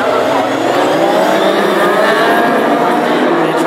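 Classic hot rod race cars roar away together at the green flag of a short oval heat, a loud, dense wall of engine noise rising in pitch as they accelerate, with a commentator talking over it.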